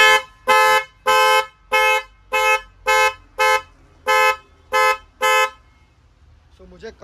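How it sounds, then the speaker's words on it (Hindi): A Roots wind tone car horn of the Creta type sounds ten loud, steady blasts in an even rhythm, each about a third of a second long, then stops, leaving faint background noise. "सो हमारा वाइंड टोन रूट्स का हॉर्न रेडी है।"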